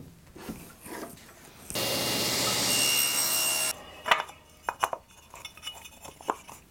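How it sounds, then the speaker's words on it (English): Power saw blade cutting a notch into a wood piece for a tube amp transformer cover, a loud steady whining cut of about two seconds, followed by quieter clicks and knocks of handling. "And now we'll lower the blade and we'll cut the notch for it to recess in."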